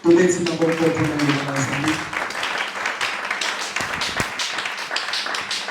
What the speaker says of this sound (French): On acclame pour la parole.